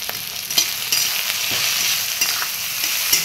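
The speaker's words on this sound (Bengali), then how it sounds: "এরপর এটা আমার সব মশলা দিয়ে ভালো করে আমি এটা নাড়িয়ে নিলাম।" Chilli mushroom with spices sizzles in a frying pan under a spatula, a steady close hiss of frying punctuated by regular scraping and tapping strokes of stirring, with no talking.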